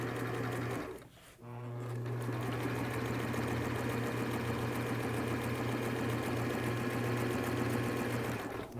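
A sewing machine back-stitches the seam of a CourageCap, running in a steady mechanical whir with a rapid needle rhythm after a brief pause, close and clear throughout.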